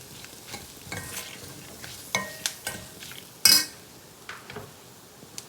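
Carrot and vegetables slowly frying in a pan for a curry, with a low sizzle under repeated scraping and clinking of a metal spoon against the pan, close up with no talk.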